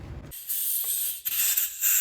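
Compressed air blasting over freshly washed Audi/VW 2.0T engine parts, loud bursts of sharp hissing with brief gaps between, following a short low thump at the start.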